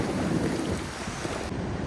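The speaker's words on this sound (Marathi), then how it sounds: "लाटा फक्त बॅकग्राऊंडला आली बघा" Sea surf rolling onto a Konkan beach at Vetye, a continuous broad wash of waves mixed with wind rumble against the microphone, steady and fairly loud with no voices.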